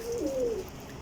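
A pigeon coos once, a short low soft call close by, against faint outdoor background, from a loft of desi flying pigeons.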